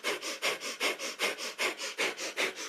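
Rapid, rhythmic nasal sniffing breaths of kundalini yoga's breath of fire, about fifteen sharp, even pulses at a steady pace, close and clear with no talk.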